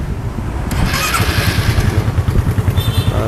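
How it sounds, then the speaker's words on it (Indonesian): A motorcycle engine is started close by, cranking briefly and then catching into a loud, rhythmic idle that thumps steadily. "jadi saya nyalakan motornya."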